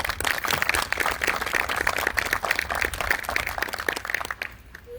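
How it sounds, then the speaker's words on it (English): A ribbon-cutting audience at a child care center claps for staff, with brisk, dense applause from many hands that tapers off near the end. "So I want to let's give her those two a round of applause"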